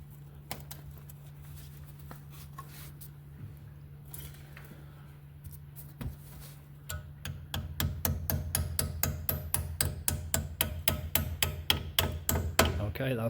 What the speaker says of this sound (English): I'm just going to tap that in with a hammer